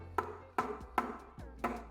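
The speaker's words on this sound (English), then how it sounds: "they'll knock their cup a lot because that'll break the bigger bubbles in your foam" Four sharp knocks of a matcha latte cup being tapped on a hard surface to break foam bubbles, spaced unevenly within a couple of seconds, close and fairly loud.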